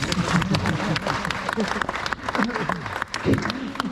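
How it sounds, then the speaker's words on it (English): Crowd of pilgrims at Namugongo, Uganda, clapping for themselves, with loud uneven applause mixed with voices and chatter throughout. "You can clap for yourself."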